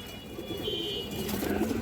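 A female pigeon's low, rolling coo close by, repeated in short throaty phrases over faint background noise.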